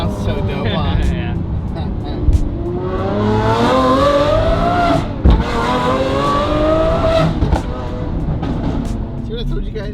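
A Lamborghini Aventador SVJ exhaust revs hard, rising and falling in sweeping pitch climbs with sharp pops between pulls, loud and close, with people talking over it.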